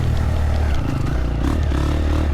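Triumph TF 250-E four-stroke 250cc dirt bike engine lugging at low revs in third gear off-road, a steady, loud, throbbing motor with clattering chassis and scraping noise close by.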